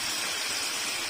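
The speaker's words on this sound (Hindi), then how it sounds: "अब इसके साथ ही मैं इसमें जो आलू बहारा था हमारा वो ऐड कर दूंगी" Plums added to a thickening sweet-sour chutney in a hot pan, with a steady close sizzle and bubbling that ends in a brief sharper splat.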